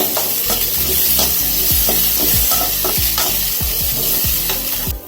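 Bell pepper and tomato sautéed in a pan for chutney, loud close sizzling under a rapid series of spatula scrapes and knocks against the pan, with no voices.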